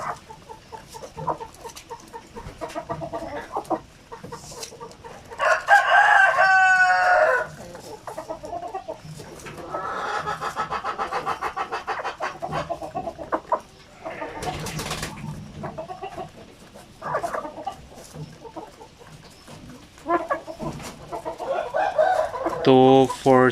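Laying hens on a Filipino poultry farm cluck steadily, with a few louder squawks and crowing-like calls rising over the flock, fairly close and continuous throughout, with a strained crow near the end.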